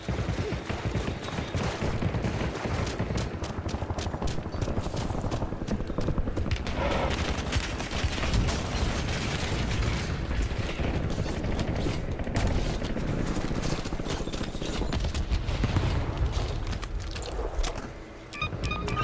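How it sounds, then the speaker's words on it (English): Dense Call of Duty: Warzone gunfight, with rapid bursts of automatic fire and scattered shots crackling almost nonstop, loud and close, thinning out briefly near the end. "Taking effective fire."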